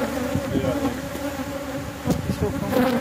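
Steady buzzing of honeybees swarming around an opened backyard hive, a continuous close drone with brief louder passes as bees fly near.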